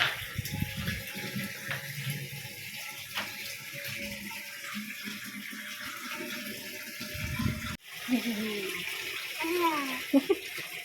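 Water runs steadily from a hose pipe with a broad rushing hiss, joined by scattered clatter and voices in the background; the flow continues through the whole stretch.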